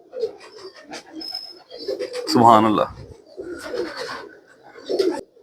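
Ghungroo breeder pigeons coo in a loft, soft repeated throaty coos rising between bursts of nearby male speech, with one louder call in the middle.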